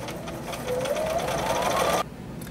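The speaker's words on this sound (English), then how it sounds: "continue sewing around the whole side of this quilt" Close sewing machine stitching binding around the edge of a quilt, a brisk rhythmic whir that speeds up over two seconds, then cuts off sharply.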